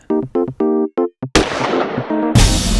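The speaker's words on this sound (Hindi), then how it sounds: "सर, ये तो गोली चलने की आवाज है।" Gunshot sound effect in a Hindi crime drama, a sudden loud broadband blast cutting in after a series of short tonal chimes, followed by a second burst near the end.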